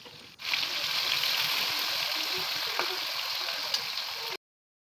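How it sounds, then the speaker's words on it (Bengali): Potatoes coated with salt, chili powder and turmeric sizzle steadily in hot oil, a continuous close hiss with small crackles before cutting off abruptly. "ভাজা হচ্ছে"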